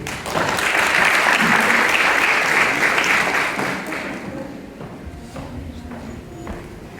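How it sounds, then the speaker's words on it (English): Applause from a school valedictory audience for award recipients, a dense, loud wash of clapping that holds steady for about four seconds, then thins and fades into scattered claps and room noise. "Please give them a round of applause"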